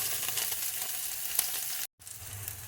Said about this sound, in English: Just want to fry these up until they're a little translucent and a little bit golden